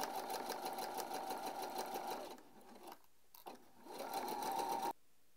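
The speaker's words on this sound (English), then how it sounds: "make sure that you back stitch on both ends so our stitches don't come out" A sewing machine stitching a seam on a messenger bag: a close, fast whirring run that stops for a short back-stitch pause, restarts briefly, then a final burst before it cuts off, with no speech.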